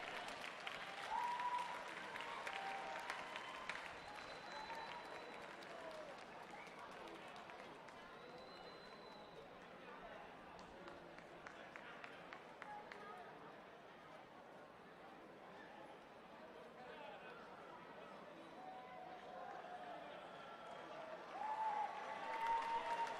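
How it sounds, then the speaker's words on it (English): Faint, distant crowd applause at Canterbury Park horse racing track for horses and riders, a long low wash of clapping and cheering with talk over it and a slight swell near the end. "give them a round of applause"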